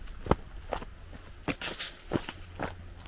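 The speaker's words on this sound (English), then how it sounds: "Can you also hear the heavier clopping in my step as we race downwards?" Footsteps hurry downhill at a quick, uneven pace, several heavy thuds with a crunch of ground underfoot, fairly faint and close.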